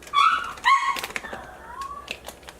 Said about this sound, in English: sorry about that, my dogs